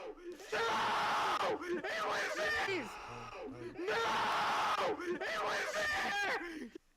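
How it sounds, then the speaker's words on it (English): In an animated clip, several voices scream and yell in repeated anguished bursts, loud and overlapping, with brief pauses between waves of shrieks. "all I hear are screams, and this is what he meant"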